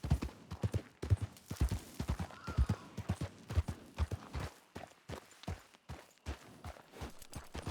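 Horses walk slowly in the video game WildRP, their hooves clip-clopping in a clear, steady rhythm of several overlapping hoofbeats, fairly near and alone.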